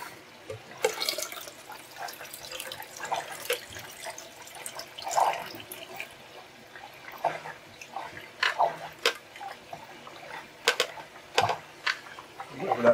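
Film developer liquid (Kodak HC-110) trickling and splashing back into a container nearby, irregular pours and drips over several seconds with small clinks.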